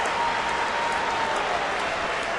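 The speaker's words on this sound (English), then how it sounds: "Nice round of applause. Many of the fans standing and cheering." Baseball fans at a Toronto versus Seattle game applaud and cheer, a steady wash of clapping across the ballpark with a high whistle running through it.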